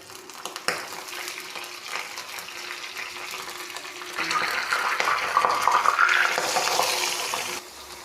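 Fish sizzling as it fries in a hot pan of oil with curry leaves for a traditional pearl spot (karimeen) dish, a steady crackle that swells louder midway and then cuts off near the end.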